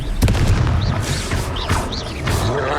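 Fiery Confringo spell cast in the video game Hogwarts Legacy during a battle, heard as a loud booming blast with crackling bursts over dense game sound effects.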